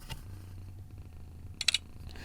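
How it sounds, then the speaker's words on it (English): A cat purrs close by in a low, steady rumbling drone, joined near the end by a few quick clicks of a phone camera shutter. "I got this cat breathing mad hard right next to me."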